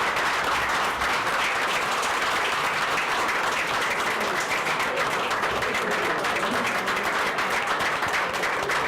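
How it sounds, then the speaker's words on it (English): An audience at a city council meeting in Alexandria, Louisiana, in 2008 gives a round of applause, a dense, even wash of many hands clapping that holds steady for about nine seconds without a break. "I think we're on the round of applause"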